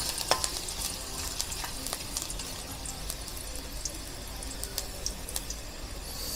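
Ginger sizzles in the pot for pork tinola while being stirred, a continuous close frying hiss broken by scattered scrapes and clicks of the spoon, with no voices.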